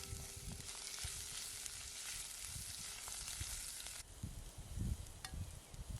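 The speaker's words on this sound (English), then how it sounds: "the mushrooms are fried in olive oil with a pinch of salt" Mushrooms frying in olive oil with a pinch of salt for a Pyrenean beef stew, giving a steady close sizzle that thins and crackles more sparsely partway through, with a few soft stirring knocks.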